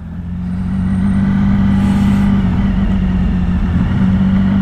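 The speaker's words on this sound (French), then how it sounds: "Je sais pas ce que vous pensez du son qu'elle fait cette moto." Triumph Sprint ST motorcycle ridden through town in Namur, its engine giving a steady low droning rumble close to the rider that builds slightly, with no talking.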